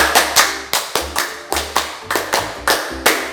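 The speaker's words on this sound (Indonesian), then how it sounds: "kita pengen dengar teman-teman tepuk HW dulu ya" A group claps out a fast, rhythmic hand-clapping chant in tight unison, about a dozen sharp, close claps in a regular pattern with brief pauses between phrases.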